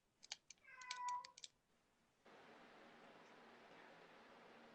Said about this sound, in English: that's my cat outside the door